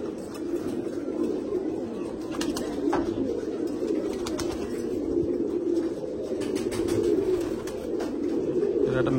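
Pigeons coo in a continuous low, throaty murmur that stays near and steady, with a few faint clicks and rustles over it.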